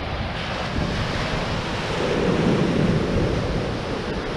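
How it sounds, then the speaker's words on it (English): Sea swell and waves break on a shore at Blue Anchor near high tide, a loud continuous wash of surf and rushing water with wind buffeting the microphone, swelling slightly midway, no talking. "Yeah, the swell and the waves"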